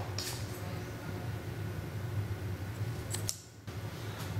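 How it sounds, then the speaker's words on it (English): Scissors snip crochet thread while a bikini top is being crocheted, giving a couple of short, faint cuts at close range over a steady low room hum, with no talking. "I'll cut this thread."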